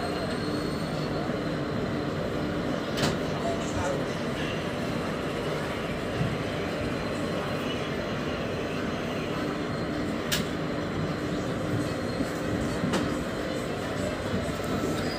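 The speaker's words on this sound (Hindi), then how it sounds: "ठीक 10 मिनट के स्टॉपेज के बाद ट्रेन खुल चुकी है यहाँ से" A passenger train pulls out of Lucknow station after a ten-minute stop, bound for Bareilly, giving a steady, continuous rumble of wheels and carriages heard from on board, with a few sharp clicks and no speech.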